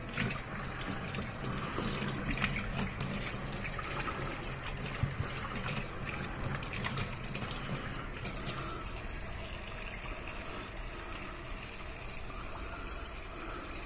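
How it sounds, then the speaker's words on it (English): Tap water runs and splashes steadily over greasy, oil-stained hands and arms as they are rinsed, a close, even wash of water noise with no talking. "now we're going to rinse off."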